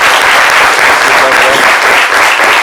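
Loud, sustained applause from an audience, steady clapping filling the whole stretch without a break.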